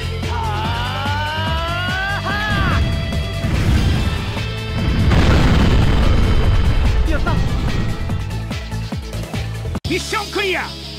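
Kamen Rider video game combat: a fire shot attack in a run of bursting, crashing blasts and booms with electronic tones and music, loud and continuous, ending with a brief cut and chirpy effects.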